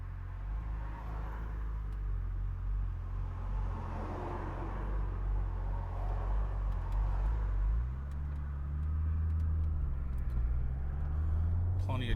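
A 2001 Audi S4 Avant with a six-speed manual pulls away from a stop in second gear, the low engine rumble swelling as it accelerates from inside the cabin, with someone talking over it.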